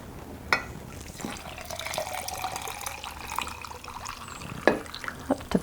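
Water is poured into a glass jar half filled with soil on a farm, giving a continuous splashing, gurgling fill with a rising pitch and a few sharper clinks and drips along the way.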